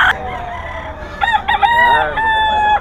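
Roosters crow in several loud, close calls, with overlapping cock-a-doodle-doo cries from gamefowl stags at a farm, joined by a few clucks against a quiet background.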